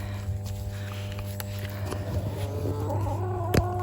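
Backyard hens in an early-autumn garden cluck and murmur softly throughout, with a few louder calls and light rustling near the end, fairly close by.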